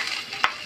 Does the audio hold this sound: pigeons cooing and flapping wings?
no